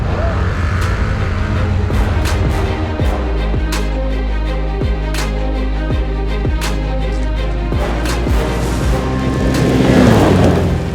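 A 2025 Can-Am Outlander XTP 1000R ATV accelerating hard in sport mode during a speed test, a loud, close engine roar climbing through repeated gear shifts with rising pitch.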